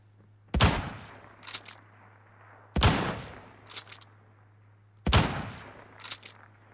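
Gunfire from an M24 rifle in a shooter match: three sharp, loud shots spaced about two seconds apart, each followed by quick mechanical clicks and a short fading tail over a steady low hum.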